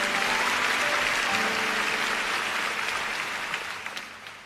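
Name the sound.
church congregation applauding for Jesus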